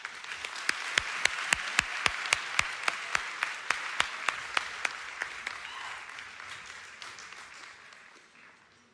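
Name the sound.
audience applause for athletes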